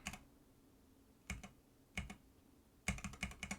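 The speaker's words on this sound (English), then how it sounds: "Again, keyboard controls." Computer keys clack in a few sparse taps at first, then a quicker cluster of keystrokes near the end, close and quiet against a faint background hiss.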